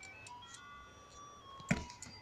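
A faint ice cream truck jingle plays in the distance as a steady tinkling melody, with a brief louder knock partway through, heard while riding a bike around the block.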